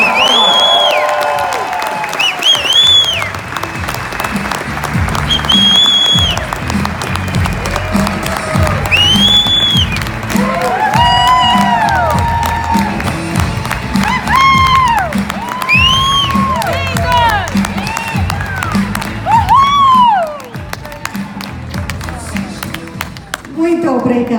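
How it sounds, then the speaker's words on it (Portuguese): A large audience in São Paulo rises in a standing ovation for founders David and Bianca Lisonbee, with loud continuous applause, cheering and whoops. Music plays underneath the crowd, and voices shout throughout. "me ajudem a receber de pé com uma salva de palmas enorme David e Bianca Lisonbee"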